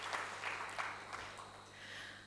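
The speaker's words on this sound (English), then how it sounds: "can I ask for a loud cheer to Mr. Batra for bringing business world where it is" Faint applause and scattered cheering from a business conference keynote audience, a broad wash of clapping with a few sharper bursts, steady and distant for a couple of seconds.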